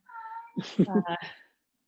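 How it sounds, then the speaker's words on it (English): A pet cat meows in the background of a home setting during an online meeting, a single close, clear, expressive call with several voiced pulses, loud and standing alone before quiet. "that's my cat in the background."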